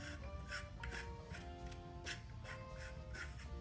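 Resin 3D printed parts rubbed against each other, giving a gritty, stony scraping that repeats in quick strokes, steady and close, with no talk.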